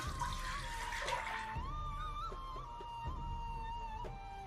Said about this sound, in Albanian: Tash në tenxhere shtojmë 800 ml me lëng të mishit, cilin e kam kulluar.